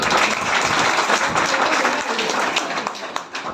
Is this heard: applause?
yes